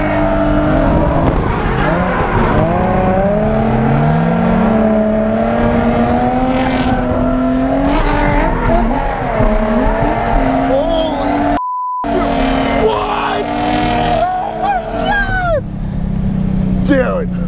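A Nissan 350Z drifting at midnight, its engine droning and revving while tires squeal in long wavering howls under near-constant excited talk, with a brief dropout midway.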